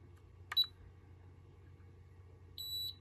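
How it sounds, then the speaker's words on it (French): A brief electronic beep from an ARKEON radio fire alarm unit sounds near the start, followed by a second steady tone near the end, both short and fairly quiet over a low background hum. "et là on a eu un bip"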